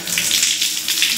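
Shower water running steadily in a spa, a continuous bright hiss of spraying water with a faint low background hum, close and alone.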